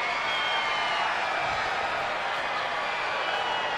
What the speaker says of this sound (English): the old-fashioned rhythmic clap and applause to stir a rally